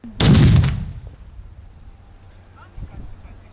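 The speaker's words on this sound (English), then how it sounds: "3, 2, 1, fire in the hole!" Controlled detonation of a landmine by ATMIS troops: a single loud, deep blast near the start that dies away into a low rumbling tail, with faint activity afterward.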